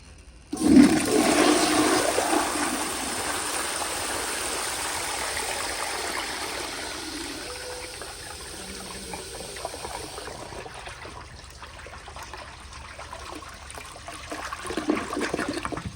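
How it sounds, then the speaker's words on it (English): A 1951 Crane Neuday toilet on a flushometer, its pressure turned all the way up, lets out a loud, forceful rushing flush. The flush opens abruptly near the start, holds steady, then eases to a softer refill wash with no voices. "So here is a flush with the pressure turned all the way up"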